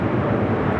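Fighter jet, an F-18, flying near LAX airport, heard as a steady, loud, broadband engine roar that stays constant throughout, with no speech.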